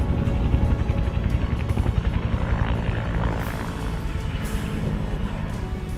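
A military helicopter flies over Rajpath during the Republic Day 2022 air display, its steady rotor thump and engine roar loud and continuous throughout, with no voices.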